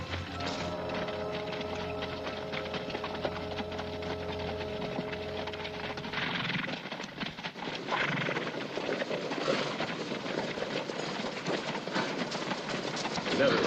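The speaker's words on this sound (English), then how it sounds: "Horses." Horses approach in an old western film, hooves clip-clopping in a steady loud patter that builds in the second half, with a neigh in the mix and voices talking over it.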